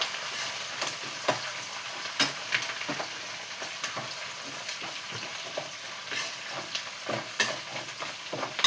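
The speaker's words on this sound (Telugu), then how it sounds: "పోపులు అయితే వేగిపోయినాయి." Tempering spices sputter in hot oil with a continuous near sizzle and frequent sharp pops and crackles, accented by stirring, with no talk.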